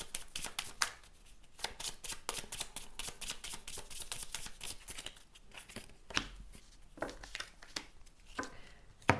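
Tarot cards being shuffled and drawn by hand, a rapid, close run of crisp riffling and slapping strokes in bursts, quiet and steady throughout with no voice.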